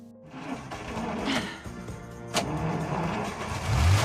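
A junk car's engine cranks and catches, a rough mechanical turnover building into a running idle with a sharp clack midway and a louder rev rising at the end, fairly close.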